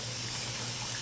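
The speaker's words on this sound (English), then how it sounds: "I do want to water it in because I want those seeds nice and soaked" Water pours steadily onto freshly sown seeds in damp soil for indoor seed starting, a close, even hiss of flowing water that holds constant for the whole moment.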